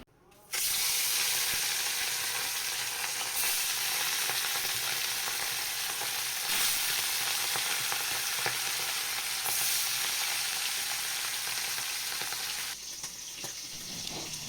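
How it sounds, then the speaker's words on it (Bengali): Fish frying in a pan, a loud, continuous hissing sizzle that holds steady for the whole stretch and eases slightly near the end. "আর এদিকে মাছ ভাজাটা প্রায় রেডি হয়ে গেছে।"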